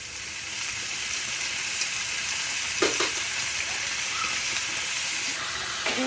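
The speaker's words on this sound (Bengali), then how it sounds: "গোলমরিচও দিয়ে নেব ভেজে নেব আর ডিম ভাজি হয়ে যাচ্ছে" An egg frying in a pan, seasoned with soy sauce and white pepper, gives off a steady, close sizzle and hiss throughout, with a few brief clinks and stirring scrapes near the middle and end.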